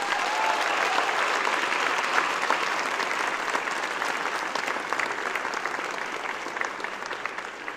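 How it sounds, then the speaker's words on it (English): Sustained, dense clapping from a large audience at a Master Global Health diploma ceremony, loud and even throughout, slowly tapering near the end. "if we could all give a short round of applause to show our appreciation for our tutors, lecturers and staff"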